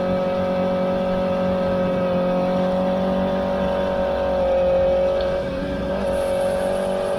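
A motorcycle rides counterclockwise around a race track, a steady loud engine drone held at high revs throughout with a slight dip near the end, no talking.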